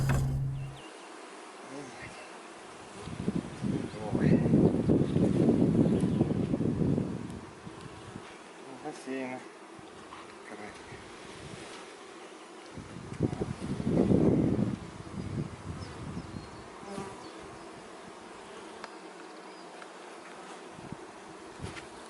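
Honeybees buzz in a hive, swelling in two loud, close bursts and fading to a faint hum between them, with no talk over the sound.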